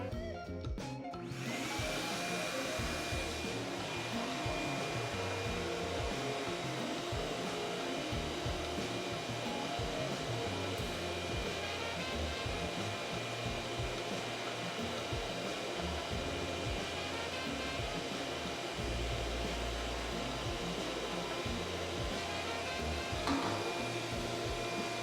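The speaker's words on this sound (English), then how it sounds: "So let's go ahead and turn the shop vac on." A shop vac serves as the suction source on a homemade seed aspirator separating crushed wings from seed, giving a loud, steady whooshing roar that holds unbroken for the whole stretch, close and alone.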